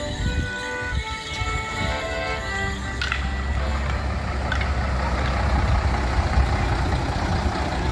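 An AC Cobra replica engine runs steadily at a gathering of British classic cars at Brooklands Museum. A deep, continuous rumble holds close and loud throughout, under faint outdoor background noise.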